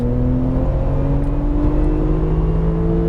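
A Porsche 911 Turbo accelerates hard on a track, its engine note rising steadily in pitch through one continuous loud pull without a gear change, heard from close by with no talking.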